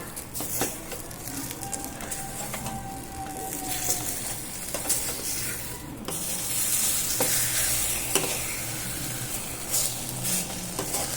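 An egg omelette frying in a small ladle (karandi) and being flipped, a steady close sizzle with scraping and knocking of a spoon against the ladle, no talk.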